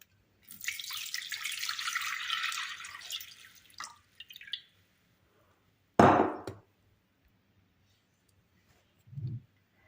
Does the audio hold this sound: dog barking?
no